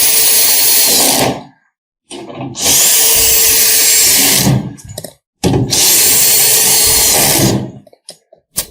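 Power tool driving fasteners on an SL facade system mounting, running in three long loud whirring bursts separated by short pauses, close up with no talking.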